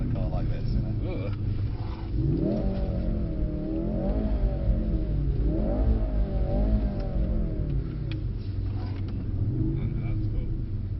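A Mercedes-Benz car accelerates hard around a track-day circuit at Mercedes-Benz World Brooklands, its engine note rising and falling through gear changes as the car corners, with a steady rumble throughout and occasional voices over it.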